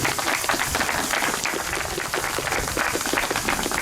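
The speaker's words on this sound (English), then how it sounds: "I think we can give them a round of applause, please." A crowd applauds the Ford family at the inaugural run of Battle of Britain class locomotive 34051-series 'Peter Ford' (BB18 1037) to Hendon: dense, steady clapping throughout, loud and close, with no voices over it.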